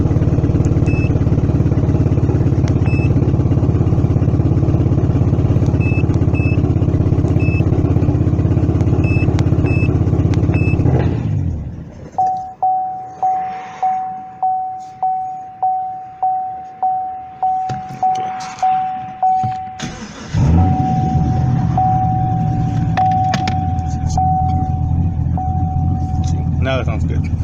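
A car's engine, running after a dealer erased its tuning, hums steadily before cutting out; a repeating electronic chime sounds through the quiet, then the engine restarts and settles into a smooth, close idle.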